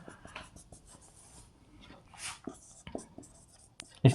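Pen writing by hand on paper, faint scratchy strokes with short pauses and a few light taps, quiet and close, ending with a louder knock.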